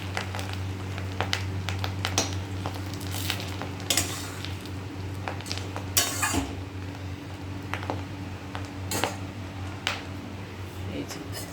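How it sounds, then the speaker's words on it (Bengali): Fish roe fritters fry in hot oil, giving a low, steady sizzle with frequent clinks and scrapes of a utensil against the pan. "এইরকম একই রকমভাবে সবগুলো ভেজে নেব"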